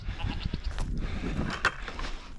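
Goats on a homestead farm bleat at feeding time, several overlapping cries rising close by over low barnyard rustle.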